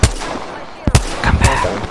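Gunfire in the battle royale shooter Apex Legends, a few sharp, loud shots spaced across two seconds, close and punchy, with a short cluster of quicker reports partway through.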